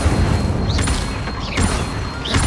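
Incendio fire spell cast three times in Hogwarts Legacy, each a short whooshing burst with a low thump, spaced about a second apart over steady game ambience.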